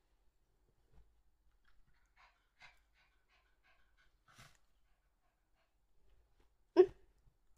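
A dog pants in a few faint, sparse breaths at close range in a quiet room, followed by one short, sharper snort or hiccup near the end.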